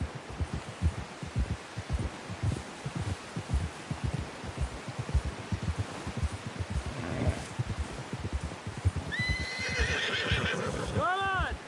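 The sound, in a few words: horse neighing and hooves, video game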